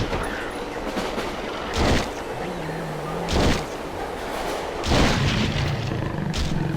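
Gunfire aimed at an enemy in the video game Silent Hill 3: three loud, booming shots spaced a second or more apart over a steady low game ambience.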